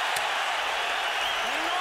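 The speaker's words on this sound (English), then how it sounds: "Listen to this crowd." A boxing arena crowd roars for Alvarez during round 7 against Hatton, a dense, steady wash of cheering and shouting that fills the space without pause.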